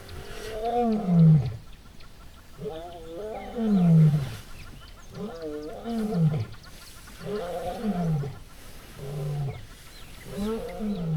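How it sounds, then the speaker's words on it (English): Lions roar in Kruger National Park, a series of deep grunting roars repeating about every two seconds at moderate distance, with no talking. "I hear lions roaring now, so there must be more here."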